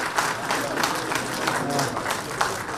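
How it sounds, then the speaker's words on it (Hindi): Listeners at a Hindi book launch for the Jharkhand assembly speaker's 'Vicharon ke 11 Adhyay' clap in a brief, dense burst of moderate loudness, with some murmured voices mixed in. "पुस्तक के लोकार्पण में तालियां आपकी तरफ से जरूर।"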